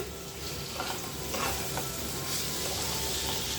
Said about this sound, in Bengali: মশলার সঙ্গে ভালো করে এক মিনিটের মতন কষিয়ে নেব